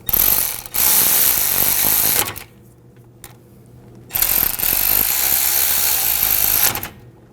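Two bursts of rapid mechanical clicking from a ratchet tightening front brake caliper pins on a 2001-2009 Volvo S60, each lasting a couple of seconds with a quiet gap between, close and fairly loud.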